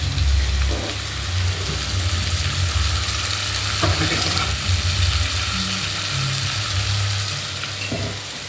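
Ground masala paste for a crab masala sizzles steadily in hot oil, a loud close continuous frying hiss with occasional scraping stirs and clinks, no one speaking.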